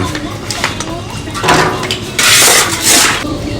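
Wood being loaded into a metal drum for a smokeless charcoal kiln, with hollow clanks and knocks of pieces dropping against the metal, several louder clattering bursts amid steady background noise, and a voice speaking over it.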